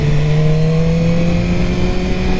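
Steady, loud engine drone from a fast motorcycle built around the BMW S1000R engine, holding a high pitch with a slight rise in revs through the moment, no voices over it.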